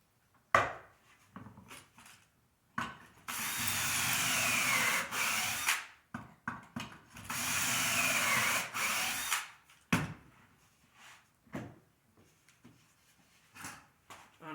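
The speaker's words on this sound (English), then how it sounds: "then we have our perfect pocket holes for joining the rail and the stile together" A power drill bores pocket holes into a wooden door rail held in a jig, with two long whining drilling runs separated by clamp clicks, knocks and handling noises.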